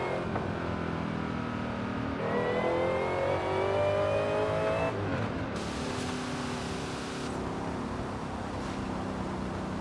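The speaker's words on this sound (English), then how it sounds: "Listen to that supercharger whine" A supercharged muscle car in Forza Horizon 5 revs hard, its engine droning with a rising whine that climbs, drops and climbs again, steady and fairly close with no talking.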